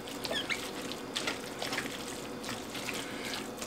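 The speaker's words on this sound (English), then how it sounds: "This barbecue sauce will make you want to pour it all on there." Barbecue sauce poured over pulled chicken, a soft wet trickling and dribbling pour heard close and steady throughout.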